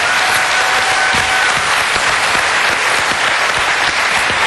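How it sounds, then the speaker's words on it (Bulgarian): A Music Idol Bulgaria audience claps loudly and continuously, a dense wash of applause that fills the space without letting up. "Аплодисменти за Валентина"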